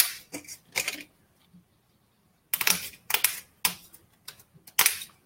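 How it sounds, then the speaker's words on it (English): Panels being cut into pieces in a craft setting, a run of sharp crisp snips and clicks in uneven bursts separated by short quiet gaps, close and fairly loud. "And now I'm going to cut these a couple more pieces."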